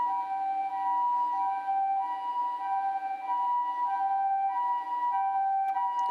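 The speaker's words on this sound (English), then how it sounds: "That's the Japanese ambulance sound." A Japanese ambulance siren wails outside in a steady two-tone alternating pattern, clear and sustained, heard alone without talk.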